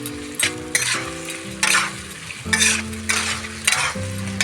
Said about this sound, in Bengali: পেঁয়াজ দেওয়া হচ্ছে এবার।